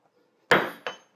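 A blacksmith's striker brings a sledgehammer down on hot steel, two sharp ringing metallic blows close together, the first louder, each decaying quickly into quiet.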